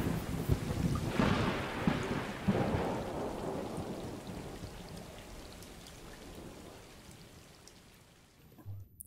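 Thunderstorm inside the video game Stray: steady rain pattering on surfaces with deep thunder rumbles early on, the downpour slowly fading and dropping away toward the end.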